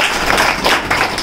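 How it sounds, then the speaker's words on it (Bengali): An audience applauds at the opening of a new office in Barasat, a brief burst of dense, loud hand clapping close by. "একবার জোরে হাত তালিও।"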